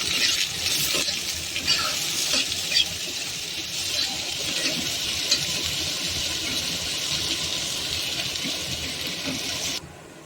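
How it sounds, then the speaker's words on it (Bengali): Onion sizzles in hot mustard oil for a Bengali aloo cheese roll, a steady bright hiss running throughout with a few small spikes of crackle, cutting off abruptly near the end. "সরষের তেলটা গরম হয়ে গেছে, এবারে আমরা কেটে রাখা পেঁয়াজটা তেলের মধ্যে দিয়ে দেব। পেঁয়াজটা তেলের মধ্যে হালকা ভেজে নেব।"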